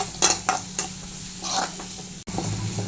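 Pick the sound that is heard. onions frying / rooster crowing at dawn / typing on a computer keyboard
onions frying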